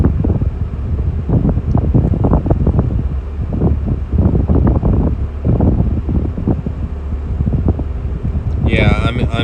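Wind near the El Dorado wildfire at Yucaipa buffets the microphone in loud, continuous rumbling gusts that keep rising and falling for several seconds.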